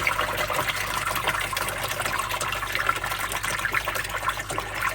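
Water pours and gushes steadily into a container in a plywood grow-on pond setup, a continuous, moderately loud rushing fill with no talking.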